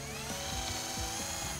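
A Switchdriver 20V cordless drill/driver bores into a wooden chair slat, giving a steady, bright motor whine with the bit biting into the wood in a few rhythmic pulses. It is close and continuous, and no one talks.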